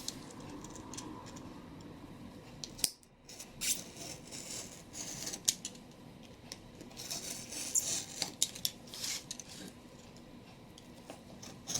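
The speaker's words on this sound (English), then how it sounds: "This cardboard is actually much easier to cut because it is just thinner" Thin cardboard being cut for a rustic Easter wagon craft, giving steady close scissor snips and crisp scraping clicks across a faint background hiss.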